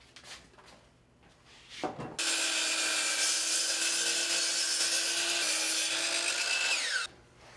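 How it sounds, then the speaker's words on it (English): Power saw cutting two clamped wood pieces for a floating shelf: a few handling knocks, then the blade spins up into a loud, steady whining cut for about five seconds before stopping abruptly. "what I'm going to do is cut them at the same time by clamping them together"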